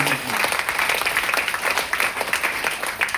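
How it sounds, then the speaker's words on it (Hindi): A crowd applauds at a product seminar, steady moderate clapping that holds evenly for a few seconds without a break. "एक बार सर का जोरदार ताली"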